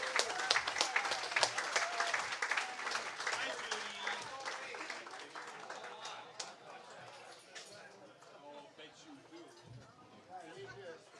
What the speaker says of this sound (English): Let's give these guys a real applause.